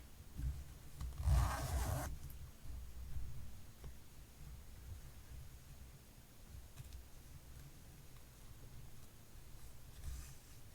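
A zipper on a knitted cushion cover gives one short, close rasp, followed by soft faint rubbing and handling of the knitted fabric in a quiet room, with no talk.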